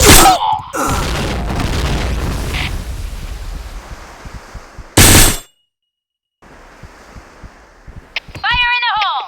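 Grenade explosions in the Point Blank shooter game: a loud blast at the start and another sharp burst midway, separated by rumbling game noise, a stretch of silence, then brief chirpy vocal sounds.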